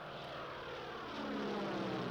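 Curtiss-Wright aeroplane engine during stunt flying, a 700 horsepower aircraft built for vertical climbs and dives: a steady, droning propeller roar that swells a little louder toward the end, with no talking.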